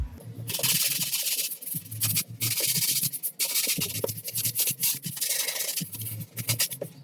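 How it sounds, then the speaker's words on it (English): Abrasive sanding along the edges of skateboard grip tape, a near, loud rasping scrape in repeated strokes with brief pauses between passes, no talking. "bend it over and sand down the sides"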